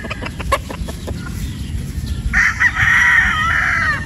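A broodstag gamecock of the possum line crows loudly and close by, one long call standing out after a stretch of outdoor rustling and soft clucks.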